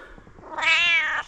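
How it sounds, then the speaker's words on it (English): A single clear cat meow, rising and drawn out, close and alone after a faint rustle. "Oh, the cat's back."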